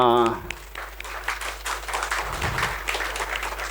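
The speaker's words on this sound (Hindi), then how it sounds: "सारे डायरी वालों के लिए जोरदार तालियां।" A seminar audience gives a burst of applause: brisk, dense clapping fills the room right after a brief tone, with voices mixed into the noise.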